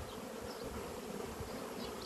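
Honeybees buzz at an open hive in a dense, steady drone with no pauses, close by and fairly quiet.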